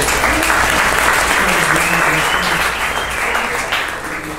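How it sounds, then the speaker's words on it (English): Steady round of applause from a meeting audience, dense and even throughout, with some voices mixed in and tapering slightly at the end. "All right, now it's time. Round of applause for"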